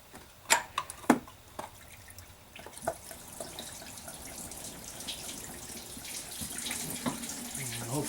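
Antifreeze drains from the engine of a 2004 Honda Pilot 3.5 V6 onto a shop floor during timing belt work, with a few loud splashes and drips at first, then a continuous trickling pour.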